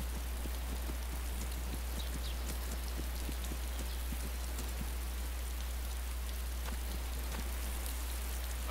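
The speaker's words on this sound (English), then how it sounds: "Oh, it's raining." In the game DayZ, rain pours continuously with a dense hiss and intermittent close droplet ticks, a low constant hum running beneath, and nobody speaking.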